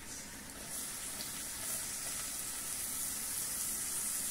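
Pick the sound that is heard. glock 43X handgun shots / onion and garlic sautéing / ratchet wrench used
onion and garlic sautéing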